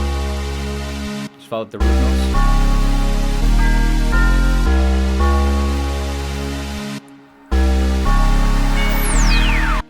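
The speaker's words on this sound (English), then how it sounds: "I used the normal tubular bells from Purity" Tubular bells from the Purity sample plugin ring over a heavy, booming bass line in a rage-style FL Studio beat. Sustained bell tones and thick low notes change every second or so, the track cuts out briefly twice, and a voice speaks over it.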